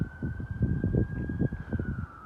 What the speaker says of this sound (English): Can you hear them sirens?